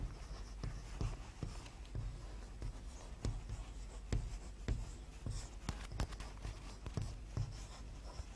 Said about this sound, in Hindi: प्रश्न आप श्यामपट्ट पर लिखेंगे।